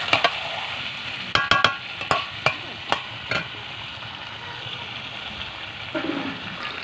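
Chicken meat frying in a clay stove, with a steady sizzle beneath a run of sharp clacks from stirring, several close together near the start and then fading to a soft crackle.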